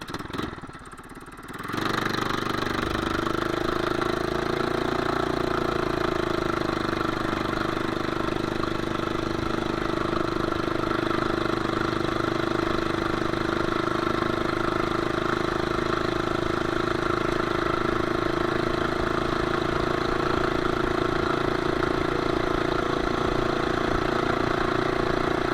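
Small minibike engine with a new budget clutch revving hard through a 0 to 20 speed run, a sustained loud mechanical drone that holds steady and slightly rises after a brief quiet start, with no speech.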